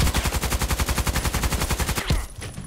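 A SCAR-L rifle in a video game fires a rapid, evenly spaced automatic burst of loud, close shots for about two seconds, then stops with a final crack and a short ringing tail.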